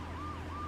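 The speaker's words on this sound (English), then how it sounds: "I'm listening out for where the sirens are" Police sirens in the video game Reservoir Dogs wail in a continuous rising and falling tone, steady and fairly loud over a low rumble for a brief moment.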